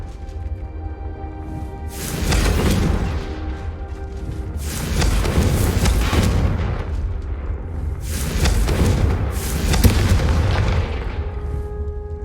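Blasting Confringo spell explosions in Hogwarts Legacy, a run of booming blasts with heavy low rumble swelling and fading several times over a continuous roar, loud and close with no talk.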